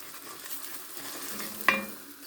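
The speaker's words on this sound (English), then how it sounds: "That is my ogbono frying." Ogbono frying in a pot with crayfish and roux, a soft steady sizzle throughout with a brief louder scrape or clink near the end.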